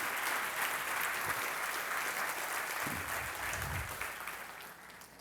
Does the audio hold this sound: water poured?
no